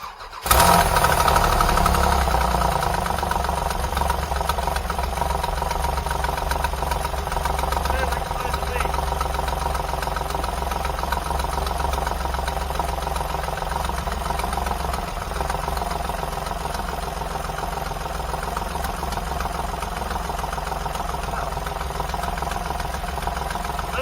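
A 4WD Dodge Daytona engine starts and then runs steadily with a fresh muffler installed, giving a loud, continuous rumble that holds for the whole stretch after a sharp start at the beginning.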